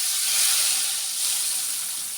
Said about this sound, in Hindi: तड़का डाल रहे हैं।